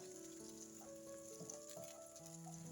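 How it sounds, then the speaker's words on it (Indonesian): Sausage and shallots stir-frying in a pan, a faint steady sizzle with occasional soft stirring scrapes and a low constant hum underneath. "Lalu tumis sosisnya hingga layu dan harum."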